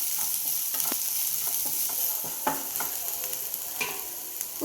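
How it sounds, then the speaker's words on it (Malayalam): Crushed dried red chillies and chopped shallots frying in a pan while being stirred, a steady close sizzle broken by occasional scraping strokes of the spoon. "ഒരു 6 വറ്റൽമുളക് ചതച്ചത് ചുവന്നുള്ളി അരിഞ്ഞു നന്നായിട്ട് ഇളക്കി കൊടുക്കാം"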